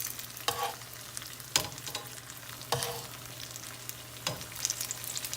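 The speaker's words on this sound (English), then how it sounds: "you can see it sizzling right away" Chicken tenders in a corn flake crust pan-frying in hot oil, with a steady close sizzle marked by several sharp crackling pops and stirring bursts spaced a second or so apart.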